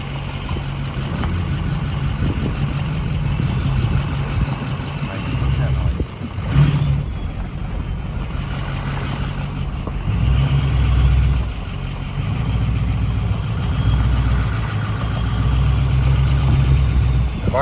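A Ford PowerStroke diesel truck engine idles after a fuel delivery repair, a loud, close, steady low rumble that holds even throughout with slight surges.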